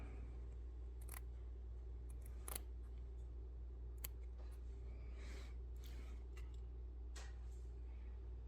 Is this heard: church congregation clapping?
no